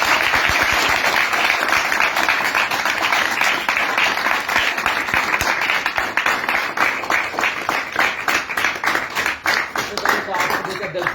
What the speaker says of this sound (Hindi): सब तो जोरदार तालियों के साथ बुलाइए